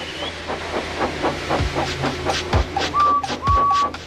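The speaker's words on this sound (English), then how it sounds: "made lots of steam, and Edward puffed away." Rhythmic steam puffs with a steady hiss, a chuffing beat about once a second, and a brief high whistle near the end, loud and close.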